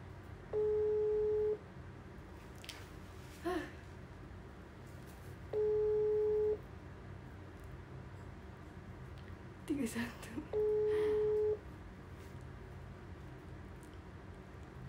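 Ringback tone of an unanswered phone call repeats three times at even intervals, each tone about a second long, with faint background murmurs between.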